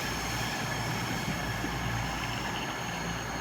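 A Great Western Railway train pulls away from a station, a steady broadband rumble and hum holding level for the whole stretch with no talk over it.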